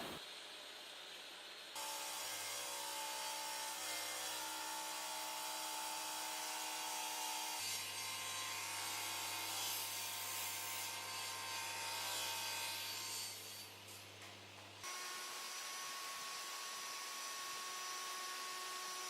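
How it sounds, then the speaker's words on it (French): Power sanding of an acrylic solid surface countertop panel, first at 120 grit and then 180 grit: a continuous loud whirring grind in several long passes with abrupt stops and restarts, no talk. "je fais un premier ponçage au 120 puis au 180"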